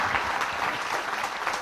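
An audience at a 2013 Catholic religious retreat teaching bursts into a short, dense round of applause, many hands clapping together at a steady level with no talk over it.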